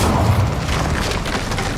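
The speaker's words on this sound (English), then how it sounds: "Incendio!" The Incendio fire spell in Hogwarts Legacy gives a short, loud, rumbling whoosh of flame that fills the brief moment without pause.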